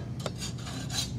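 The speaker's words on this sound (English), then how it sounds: "Just simply take the hacksaw, put it on your line, and you're going to want to apply light pressure." Hacksaw blade cutting a metal axle for a CO2 car, clamped in a vise: a close, raspy scraping stroke back and forth, two or three rough strokes in a brief burst with no talk.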